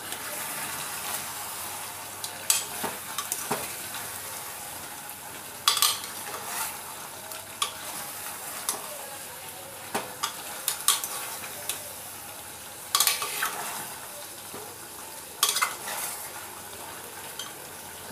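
Chicken being stir-fried in oil in a pan, with soft sizzling under intermittent spatula scrapes and clanks against the pan that come every few seconds, close by and with no talk.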